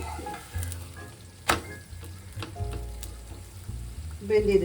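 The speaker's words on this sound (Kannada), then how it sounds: "ಬೇಯ್ತಾ ಇದೆ, ರೊಟ್ಟಿ ಬೆಂದಿದೆ" Akki rotti, a rice flatbread, sizzles and fries on a hot pan, with steady crackling and a few stirring or handling knocks close by and no voices.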